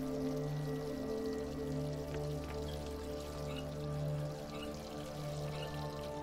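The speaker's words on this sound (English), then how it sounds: "You left the water on, chick." Running water left on in a game scene flows as a soft, steady pouring stream beneath a sustained low musical drone, with faint drips and no speech.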